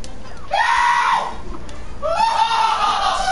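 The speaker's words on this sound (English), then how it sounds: "Stop screaming, you idiot." A person screams loudly in two long, high wails separated by a brief pause, close and harsh over faint background noise.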